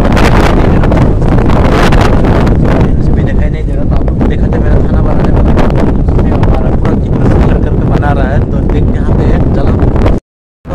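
Strong wind blows outdoors in Arunachal Pradesh, battering the microphone with loud, continuous roaring gusts for about ten seconds before cutting off abruptly.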